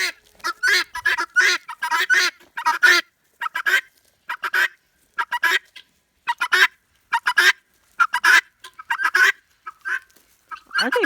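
Birds nearby give loud, honking, goose-like calls in a rapid irregular series, each brief burst separated by short silences, with no speech heard.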